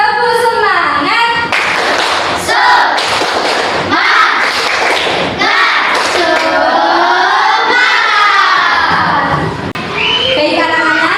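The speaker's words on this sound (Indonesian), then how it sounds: "Tepuk semangat." Schoolchildren in a primary classroom perform a rhythmic spirit clap, loud patterned hand claps mixed with their chanting and shouting voices close by.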